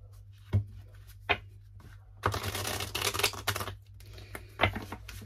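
A deck of cards being shuffled by hand during a tarot-style reading, a couple of quick taps and then a dense riffling burst of about two seconds, followed by scattered card snaps.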